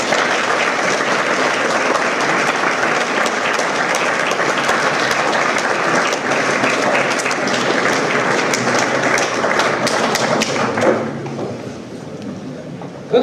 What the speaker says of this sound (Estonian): Aplaus Tiiale!